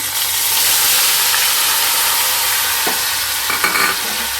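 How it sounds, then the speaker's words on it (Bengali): Grated onion sizzles steadily in a hot pan over a raised gas flame for an egg masala curry, a dense continuous hiss with a few faint stirring scrapes near the end. "পেঁয়াজটাকে একটু লাল লাল করে ভালো করে ভেজে নিতে হবে"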